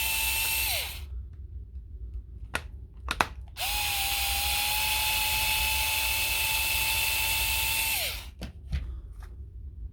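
A power driver backs T10 Torx screws out of a Dewalt DW087 laser level, whirring in two sustained runs separated by short clicks and taps of handling, close and fairly quiet.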